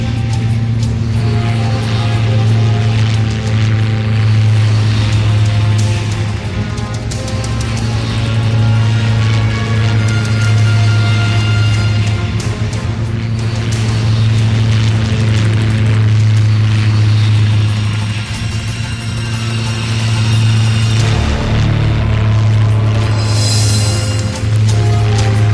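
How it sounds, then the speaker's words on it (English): A propeller aeroplane flies toward the listener, a loud, steady droning engine hum with a strong low tone that holds throughout, swelling slightly near the end. "This is an aeroplane."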